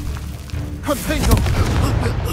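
A Confringo fire spell in the Hogwarts Legacy video game bursts in booming blasts, a heavy thud followed by a louder crack, mixed with game sound and voices.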